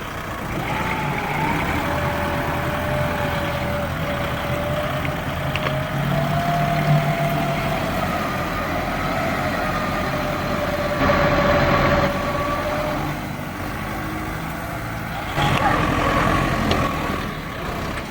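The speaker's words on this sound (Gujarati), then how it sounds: "તો મિત્રો આપણું 4 વ્હીલ આવી રહ્યું છે, હવે આને આગળથી આપણે ધક્કો મારી દઈશું" A four-wheel vehicle approaches to push a stuck Kubota tractor on a farm, a steady engine drone with a wavering tone running throughout, with a few brief louder swells toward the end and no voices.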